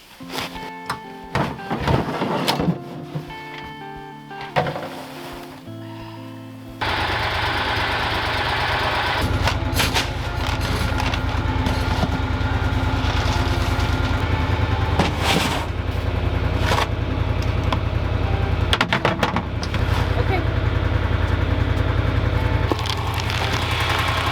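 A generator at an off-grid winter van and skoolie homestead starts up and runs steadily with a loud, constant low engine drone. It follows several seconds of quieter, scattered knocks and handling sounds.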